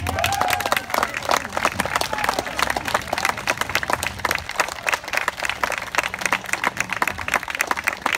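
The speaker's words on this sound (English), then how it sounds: "Let's give Dennis Townsend a big round of applause." Applause fills an outdoor Flag Day celebration crowd, steady dense clapping from a sizable audience held throughout, fairly loud and even with no voice over it.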